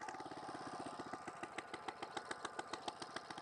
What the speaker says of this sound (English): To start the machine, I put the choke into choke position, I switch it on